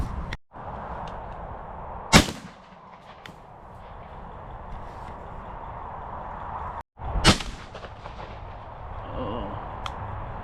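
Two sharp shotgun-like reports ring out several seconds apart during outdoor pigeon shooting, each a single loud crack over steady wind and field noise.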